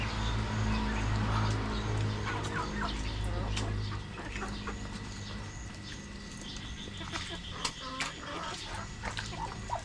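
A hen with nearly grown chicks clucks and peeps in a yard, with short bursts of clucking over a low steady background hum and some scattered knocks.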